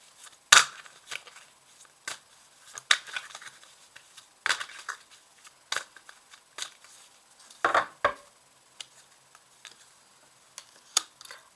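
Tarot cards being handled and laid out on a table, giving scattered short taps, slaps and shuffling flicks at an irregular pace, close and fairly quiet with no talk.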